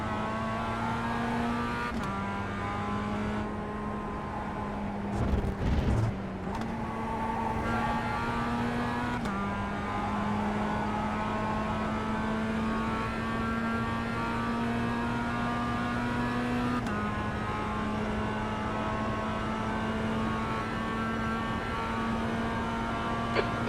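Racing video game with race car engines sustained over a clean multi-lap race, a loud continuous high-pitched engine whine with distinct gear-shift pitch steps and brief bumps, no voices.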